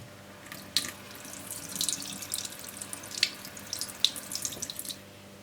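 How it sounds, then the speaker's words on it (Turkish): Water pours over the polished surface of a handmade hunting knife blade, a light steady trickle with small splashes and drips close by, heard alone. "Bu şekilde su akar."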